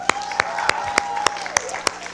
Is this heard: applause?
yes